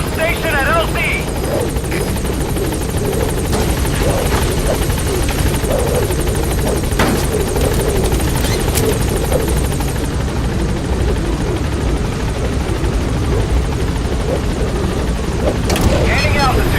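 A video-game helicopter in Metal Gear Solid V comes in toward a landing zone, its loud, close rotor thump and engine whine droning continuously, with radio-style voice chatter heard over it.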